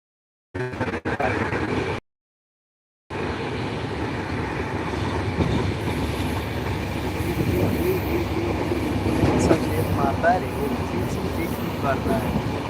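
A passenger train travels from Muzaffarpur to Ghazipur in India, heard from inside as a steady, loud rumble of wheels on the rails, with rhythmic clatter and faint squeals after a brief cut near the start.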